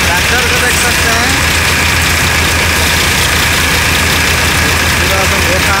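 A tractor engine idles loudly and steadily in the open while sacks are loaded into its trolley, a continuous close rumble with no break.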